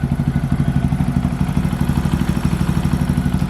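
A Honda Grom motorcycle engine with a 149cc big bore kit idling low and steady, its rapid, even chugging pulses loud and close with no voices over it.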